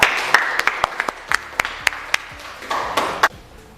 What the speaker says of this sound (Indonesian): beri aplaus untuk teman kita